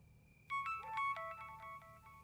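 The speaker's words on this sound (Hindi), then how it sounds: "रात के इस टाइम किसका फोन आ रहा है?" Phone ringtone starting abruptly at night, a melodic electronic tune of bright repeating tones, clear and moderately quiet in a still room.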